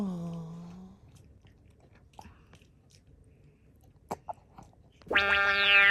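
A baby chews a first meal of solid food, making faint, sparse wet clicks and small bites in a quiet room, with a voice heard briefly at the start and end.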